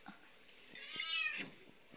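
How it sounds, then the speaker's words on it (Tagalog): A cat meows once in a drawn-out, rising-and-falling call, fairly close and moderately loud, with faint household clatter around it and no talking. "pusa ni Kai Kai, malaki na"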